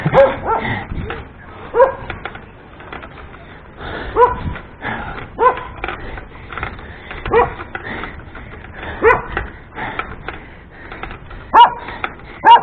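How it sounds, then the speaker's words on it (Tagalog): A dog barks repeatedly in short bursts, fairly close, with irregular gaps between barks and faint background noise. "Ang aso yun."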